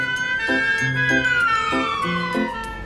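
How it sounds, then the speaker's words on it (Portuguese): A cartoon ambulance siren wails in a falling, sweeping tone over a repeating bouncy jingle pattern, clear and close with no talk over it. "Vejam, está chegando uma ambulância."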